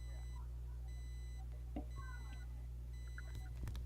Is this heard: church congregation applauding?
no